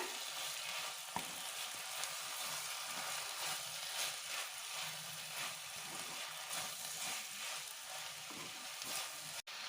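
Grated coconut sautéed and stirred in a pan for Chettinad country-chicken curry, giving a continuous, even sizzle of frying with soft stirring scrapes and no voices.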